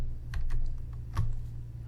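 Computer keyboard keys pressed while navigating an IBM i SEU editor prompt, a few distinct clicks and taps over a steady low background hum, close and moderately loud.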